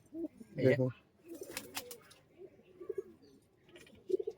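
Giribaz pigeon cooing in short, soft bursts with pauses between, close by, alongside scattered chirps and faint background voices.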